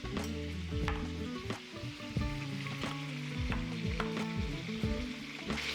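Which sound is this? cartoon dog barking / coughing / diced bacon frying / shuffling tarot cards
diced bacon frying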